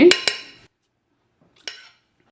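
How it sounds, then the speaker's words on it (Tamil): Rava idiyappam dough being moved from the pot into a separate bowl, with two quick metallic clinks of a spoon against the vessel, then silence and one more ringing knock, close by. "இது ஒரு செப்பரேட்டான பவுலில் வந்து இறக்கி எடுக்கிறேன்"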